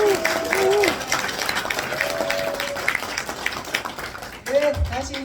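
Audience at a political party lecture in Michuhol claps steadily throughout, a dense wash of applause with a host's amplified voice speaking over it near the start and end.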